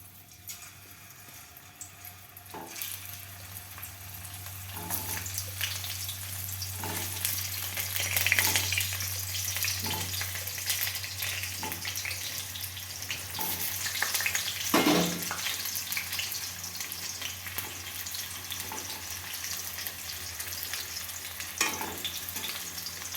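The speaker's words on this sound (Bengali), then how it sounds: "এরপর আমি আলুগুলো তেলে ভেজে নেব।" Half-boiled, lightly salted potatoes frying in oil for chicken rice: a sustained, moderate sizzle with occasional stirring scrapes and a low background hum, no one talking.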